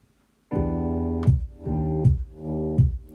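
Music ducks in a pumping rhythm as a sidechain compressor clamps the song under each kick drum hit, with three or four sharp dips and swells after a brief silence.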